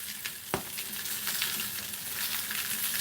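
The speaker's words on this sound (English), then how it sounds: "potatoes are boiling" Potatoes boiling in a pot on a home stove while sausages cook nearby: a steady broadband bubbling hiss with sizzling crackle and an occasional sharp clink, continuous and fairly close, with no talking.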